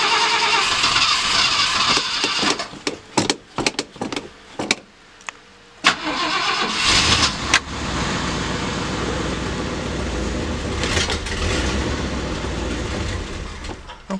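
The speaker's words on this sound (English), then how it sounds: "it's firing up, it's turning over, things are moving" A 1965 Ford Galaxie 500 with a fuel problem cranks and fires, with loud engine noise, then a choppy stretch of stuttering bursts and short gaps, then a sustained rough run that settles into a steady loud drone.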